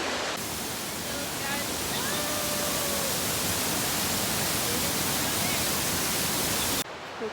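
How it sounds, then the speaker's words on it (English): Waterfall in the Kenyan jungle, a dense, continuous broadband rush of falling water, loud and steady throughout, with faint voices mixed in beneath. "if you couldn't hear, waterfall, and it's pretty cool"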